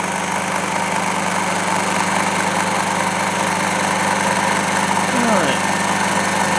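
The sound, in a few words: small model finger engine running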